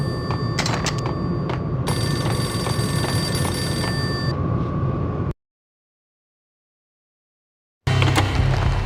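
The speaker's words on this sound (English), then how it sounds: "A payphone started to ring." Payphone ringing in the Max Payne video game, repeated electronic bell rings over a dense game background, then a sudden silence before game sound returns.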